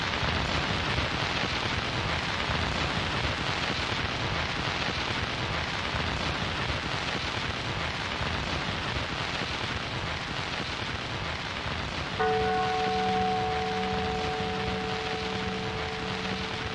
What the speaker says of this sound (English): That's rain on an umbrella.